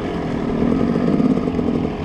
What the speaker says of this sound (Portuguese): Lá vejo motos. Vejo motos.